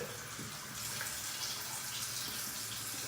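Tap water runs steadily over a bar of virgin coconut oil soap to wet it, a continuous soft splashing rush close by, heard alone.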